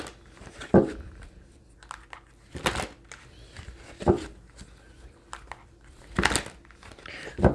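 Close, soft crinkling and riffling bursts of tarot cards being shuffled, repeating every second or two over a quiet background.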